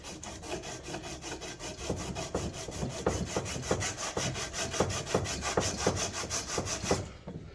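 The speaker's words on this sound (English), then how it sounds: "it's already taken a lot of the paint off, at least the top coat, with just scraping it a little bit" Paint being scraped off a hard surface with a steady back-and-forth rasping rhythm, close and fairly loud, repeated strokes throughout before stopping near the end.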